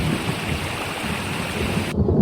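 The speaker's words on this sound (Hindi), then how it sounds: "अगले दिन बारिश हुई।" Steady heavy rain pours down with a deep rumble of thunder rolling beneath it, loud and close, continuous until an abrupt cut near the end.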